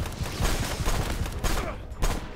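Rapid gunfire from the video game Left Alive, a loud, dense burst of overlapping shots running through the whole moment with a couple of heavier impacts near the end.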